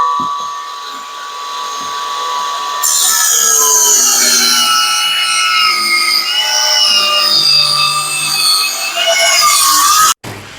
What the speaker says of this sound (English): we're actually going to use the 18-volt table saw to cut it